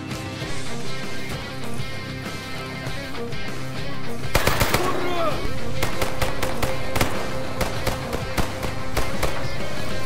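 AK rifle gunfire in the STALKER Gamma game cracks out in sharp, loud bursts and rapid single shots from about the halfway point, over a busy ambient background.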